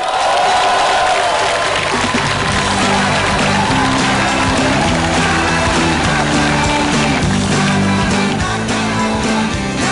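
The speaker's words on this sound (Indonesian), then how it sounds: "Saudara-saudara, beri tepuk tangan yang meriah untuk Mario Teguh." Studio audience applauds and cheers for motivator Mario Teguh on a year-end stand-up comedy TV special, a loud, dense crowd roar sustained throughout with music playing underneath.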